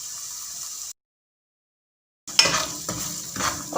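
Semolina hits hot ghee in a pan for coconut suji halwa, then scrapes and stirs in close, uneven bursts after a brief silence, with a soft sizzle underneath.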